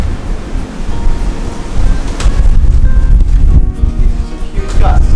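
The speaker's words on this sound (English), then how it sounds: "We got major gusts and rain again." Strong outdoor wind gusts with rain, roaring and buffeting the microphone in waves, loud and close, heard while a woodworker routes a simple Viking chair outside.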